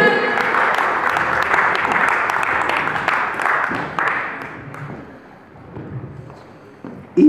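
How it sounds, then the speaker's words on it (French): A crowd gathered for Thérèse Fontoliet's birthday celebration in Montreux claps loudly and densely, the applause thinning and fading after about four seconds, with a sharp thump near the end. "Applaudissez encore une fois, s'il vous plaît"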